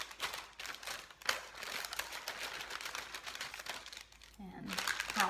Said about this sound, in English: I am going to use a piece of wax paper.